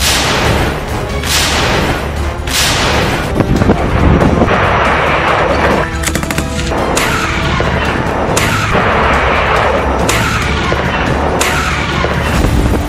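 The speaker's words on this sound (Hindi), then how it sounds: "रूस पर यूक्रेन का मिसाइल हमला।" Repeated heavy booms and blasts from a missile strike on Russia in the Ukraine war, dense and continuous, with several sharp bursts rolling over a constant roar of wind-like noise and no talking.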